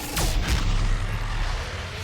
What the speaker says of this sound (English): Yep, that was a black hole generator, I think